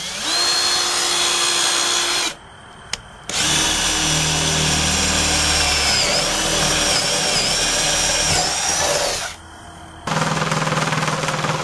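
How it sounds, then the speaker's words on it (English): Power drill boring a hole in wood inside a traced line while building a homemade micro ultralight camper, two loud sustained whirring runs close by with a short pause between them. "then I will drill a hole to the inside of my trace"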